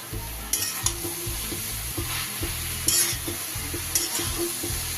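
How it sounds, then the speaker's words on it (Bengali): A spoon stirs shredded cabbage with rohu fish head in a hot pan. Scraping strokes come every second or so over a constant loud sizzle of frying, close up and with no voices. "আবার একবার নেড়ে দেব।"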